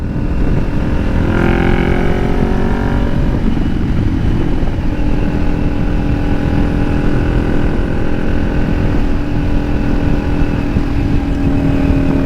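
A Kawasaki Ninja 400 engine drones loud and steady while riding, pitch rising through a gear shift early on and then holding under constant rushing wind.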